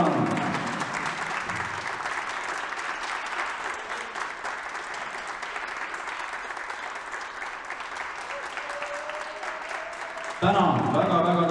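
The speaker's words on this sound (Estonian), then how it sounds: "Täna kolmas koht, teeme suure aplausi." Sustained audience applause for the third-place team at a youth football tournament's year-end final, loud and continuous for about ten seconds, ending in a sudden louder burst of mixed clapping and voices.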